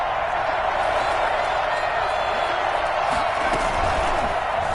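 Stadium crowd roaring steadily in a next-gen football video game, a dense continuous wash of cheering and noise near third and goal, with a commentator's voice partly over it.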